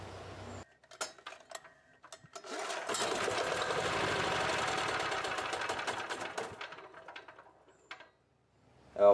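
Small generator engine converted to run on frying oil cranks and sputters into a rough, uneven start, rattling steadily for several seconds before cutting out, with scattered mechanical clicks and knocks before and after.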